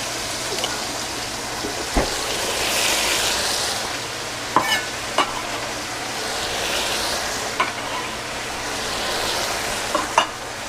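Vegetables frying in butter in a pan, making a steady close sizzle with scattered stirring knocks and clinks, no talk.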